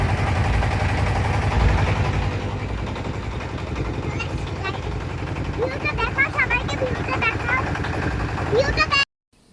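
A steady motorboat engine drone runs throughout beneath voices and chatter on a boat trip on the Gorai River in Kushtia, with people talking and occasional higher calls, ending abruptly near the close.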